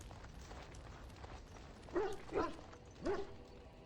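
A dog barks three times in the Dragon Age: Origins video game, short separate woofs around two to three seconds in, moderately close over a steady low background ambience.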